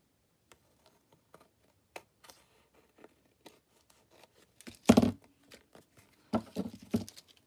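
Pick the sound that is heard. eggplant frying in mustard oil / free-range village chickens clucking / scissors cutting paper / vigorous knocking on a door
scissors cutting paper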